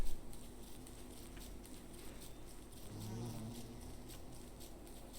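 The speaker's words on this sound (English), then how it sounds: "I think it's because the bee noise made me jumpy." Soft, steady insect buzzing from a bee in the video game Don't Starve Together, faint and continuous under a low game ambience, with no talk.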